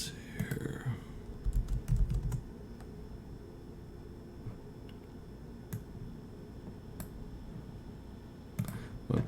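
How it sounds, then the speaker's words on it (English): Computer keyboard keys are pressed in short, scattered bursts of quiet clicks, with a few isolated taps and longer pauses between them, faint against a soft room hum and with no talking. "I'm just investigating key presses here."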